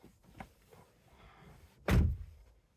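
A rear door of a Dodge Durango (2011–2023) opened from inside after the child lock is released: faint handle clicks and rustling, then one sharp, loud latch thunk near the end.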